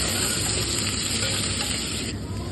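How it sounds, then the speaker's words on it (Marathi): Onion and coriander sizzle steadily in hot oil tempered with cumin and bay leaf, a continuous close frying hiss with faint stirring scrapes throughout and no talking. "त्यामध्ये टाकूयात थोडीशी कोथिंबीर आणि कांदा आता हे छान प्रकारे परतून घ्यायचं आहे"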